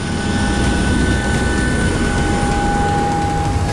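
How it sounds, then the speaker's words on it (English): Ryanair Boeing 737 jet engines roar steadily during takeoff, a loud, continuous broadband rush with a sustained whine heard from inside the cabin. "So, right, we'll do some shots of takeoff and landing"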